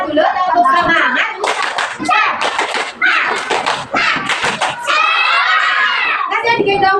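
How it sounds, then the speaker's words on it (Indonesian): A group of young children in a classroom chant together loudly and clap sharp, rhythmic bursts in time, voices and hand claps alternating in a lively, close-up call-and-clap pattern with a little giggling. "Sebelum pulang, mari kita tepuk semangat dulu untuk semangat."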